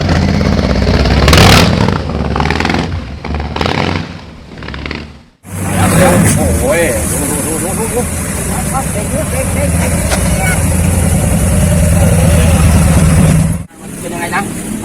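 A 2020 Harley-Davidson Street Bob with a Fuelpak 3 tune rumbles loudly up close, revving in bursts and then holding a long sustained roar that cuts off briefly twice, while people talk over it.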